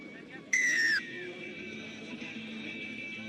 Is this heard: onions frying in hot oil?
no